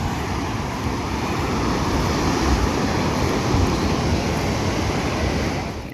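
Sea waves at Arambol beach in Goa wash in as a steady, continuous surf roar with wind noise, moderately loud and unbroken, with no voices.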